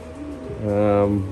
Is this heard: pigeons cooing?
yes